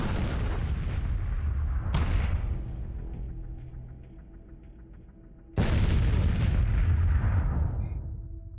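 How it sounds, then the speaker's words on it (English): Artillery fires in the sci-fi train strategy game Miner's Mettle as two loud booms about three and a half seconds apart, each followed by a rumbling tail that fades under faint background game sounds. "Aiming artillery."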